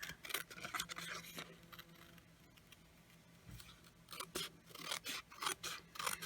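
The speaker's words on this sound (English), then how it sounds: "you're just going to take your paper snips, because I missed that edge a little bit, and trim it" Paper snips trim a sheet of paper in short crisp bursts of cutting, quiet pauses between clusters of snips, close up with no talking.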